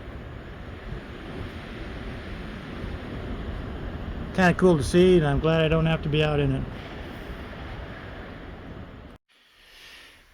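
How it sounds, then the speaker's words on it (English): Blizzard wind drives snow through Fremont, Nebraska, a constant loud rushing gust roaring against the microphone, with a person talking over it midway before the wind drops off abruptly near the end. "It is really blowing and snowing and no power since 1 o'clock."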